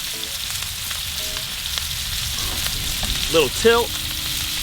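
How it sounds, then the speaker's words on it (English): Fresh thyme, rosemary and whole garlic cloves crackle in a ribeye butter bath, a soft steady sizzle with small pops. A voice speaks briefly over it. "that snap, crackle, pop, there's a little sap in this rosemary"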